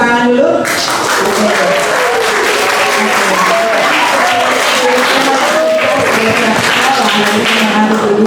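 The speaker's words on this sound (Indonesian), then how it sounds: "Tepuk tangan dulu." Students at an anti-bullying school seminar break into sustained applause, a dense wash of many hands clapping at a steady, loud level that fills the room from start to finish.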